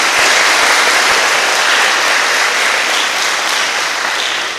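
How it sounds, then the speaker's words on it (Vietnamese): An audience at a Vietnamese Buddhist dharma talk given by a nun bursts into loud, dense applause that fills the room and continues steadily throughout, with no voices over it. "Cho một tràng pháo tay thật lớn."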